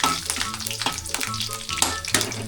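Garlic fries in a pan with a busy, close crackle and sizzle, broken by repeated scraping and stirring strokes that come in a loose rhythm, with no voice over it.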